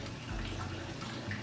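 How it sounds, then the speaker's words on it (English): Small fountain trickling into a built stone pond indoors in a 1700s barn home, a soft continuous splashing and burbling, steady and faint. "That's actually a stone pond that we had built."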